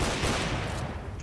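Rapid gunfire from a CS:GO match crackles loud and continuous for about a second, a dense burst of overlapping shots with no talk.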